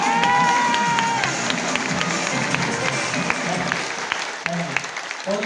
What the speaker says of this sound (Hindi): तो एक बार जोरदार तालियों से आज के प्रोग्राम की स्टार्टिंग करेंगे।